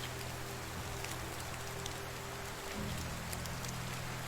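Rain in the video game Medieval Dynasty falls as a steady, dense wash of patter with a low background hum, continuous and even with no voices.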